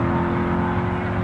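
A Hemi-powered, gas-burning 1969 drag racing funny car roars loudly and steadily under acceleration, a thick continuous engine drone with no voices.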